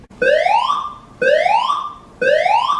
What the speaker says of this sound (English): let me refresh how the evacuation alarm sounds like